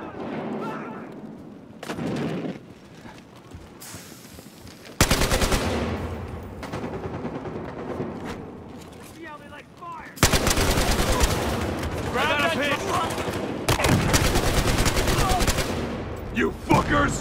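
Bursts of automatic rifle fire from an AKM during a bank heist in the video game Battlefield Hardline, with loud sustained volleys separated by quieter stretches and faint voices.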